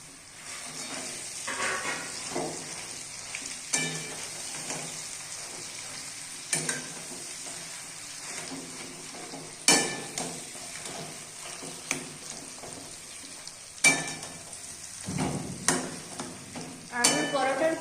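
A salted potato filling for aloo paratha is stirred and fried in a pan with fried spices, giving a continuous soft sizzle broken by sharp spatula scrapes at irregular intervals.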